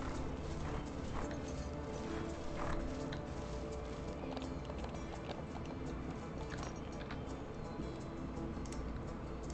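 Horse hooves clip-clop steadily during endurance training on a ranch in a horse-breeding video game, a soft continuous patter of footfalls heard alone at a fairly low level.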